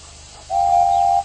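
A steam engine whistle from a Thomas the Tank Engine story sounds once, a steady high tone lasting under a second over faint background hiss, fairly loud and close.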